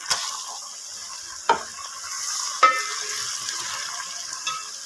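Minced meat (keema) frying in a pan for muttar keema, with a steady hiss of sizzling and a couple of sharp scrapes and clinks from the spoon as it is stirred; close and clear, no talking.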